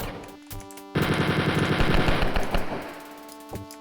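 Gunfire crossfire in the video game Wolfenstein 3D: rapid machine-gun bursts and shots rattle loudly and up close for a few seconds, then thin out into scattered single shots.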